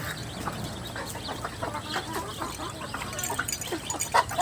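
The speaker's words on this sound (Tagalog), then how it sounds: "Nakatay na yan, mga manok na yan." Farm chickens raised for slaughter cluck softly and intermittently over a steady outdoor background, with a few brief sharper calls near the end.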